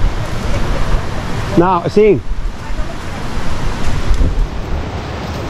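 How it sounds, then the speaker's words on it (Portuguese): A creek flows with a steady, close rush of water while people briefly talk over it, the stream continuing alone afterward. "Estamos no arroio já."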